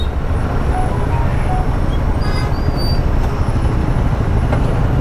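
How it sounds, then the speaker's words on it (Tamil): Heavy road traffic near Delhi produces a constant low rumble of engines and tires, with faint distant horn tones over the steady noise. "இப்போ செம்ம டிராஃபிக்கில் வந்து மாட்டின்னு இருக்கோம்."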